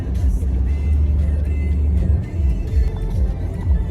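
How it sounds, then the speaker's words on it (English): A steady, loud low rumble of road and tyre noise inside an electric car cruising on a US freeway at about 70 to 75 mph, constant with no engine revving. "now enter the freeway, and we'll be putting the car on the cruise"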